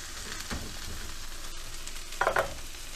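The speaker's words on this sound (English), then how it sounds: "We're gonna break egg, make it look crumble" An egg frying and being stirred in a pan for pad thai gives a steady sizzle with scraping stir strokes and a brief louder clatter near the end, close by and with no talk.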